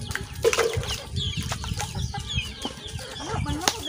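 Farmyard chickens, including an old hen that no longer lays eggs, cluck and squawk in short repeated calls, fairly close, with faint rustling and low background noise.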